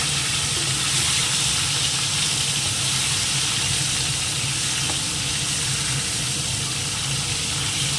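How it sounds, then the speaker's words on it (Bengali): Fish coated in salt and turmeric fries lightly in oil, giving a steady, close sizzling hiss with soft steam that holds evenly throughout and has no talk over it. "নুন হলুদ মাখিয়ে নিয়েছি, তেলের মধ্যে একটু হালকা করে ভাজবো, খুব বেশি ভাজবো না।"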